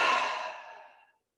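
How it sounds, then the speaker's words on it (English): A single long exhale, like a sigh after a deep breath during a seniors' stretching routine, starts moderately loud and breathy, then fades gradually over about a second into silence. "Take a deep breath."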